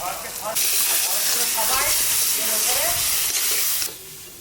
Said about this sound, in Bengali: এবার টমেটোর পিউরি দিয়ে দেবো